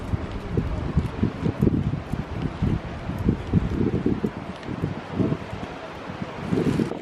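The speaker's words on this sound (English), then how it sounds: "You can probably hear the wind." Gusty wind blows outdoors on a cold, blustery day, roaring and buffeting close to the microphone in uneven low rumbling surges throughout, with no talking.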